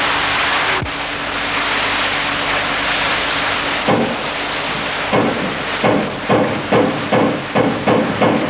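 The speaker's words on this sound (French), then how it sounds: "avec cette même machinerie primitive, retentissent les martinets." Heavy rhythmic pounding of water-powered forge trip hammers at Klingenthal strikes repeatedly over a loud rushing roar, the blows coming faster and more regular toward the end.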